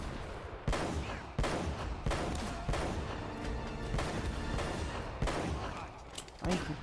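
Gunfire in the video game Uncharted: Drake's Fortune, a string of sharp, loud shots and short bursts spaced irregularly over several seconds, with a faint voice murmuring underneath.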